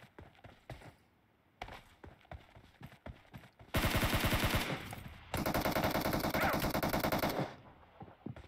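Automatic weapon fire in PUBG Mobile: scattered single shots, then two long sustained bursts of rapid gunfire, loud and close, with no talk over them.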